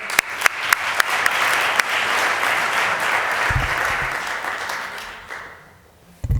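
An audience at an entrepreneurship event applauds, starting with a few sharp individual claps that swell into sustained crowd clapping, then gradually fade out, with a couple of loud bumps near the end.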